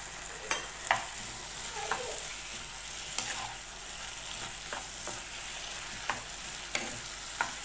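Chilli prawns fried in red chilli sauce in a pan, a soft constant sizzle broken by several sharp scraping stirs of a spatula, close up and without talk.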